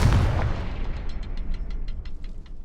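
A fiery Confringo spell blast in Hogwarts Legacy bursts loudly in a heavy boom, then trails off into crackling debris and a fading rumble.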